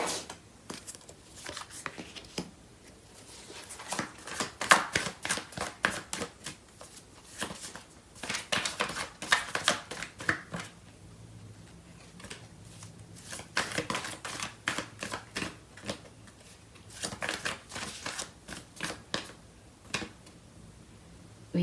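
Tarot cards are shuffled up close in repeated bursts of crisp riffling and flicking, each run lasting a few seconds with short pauses between, quiet and with no talk over it.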